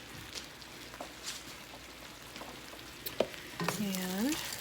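Thinly chopped zucchini, two medium ones, stirred into a frying pan, a soft scraping and steady sizzle under a low crackle, with a brief rising voice-like tone near the end.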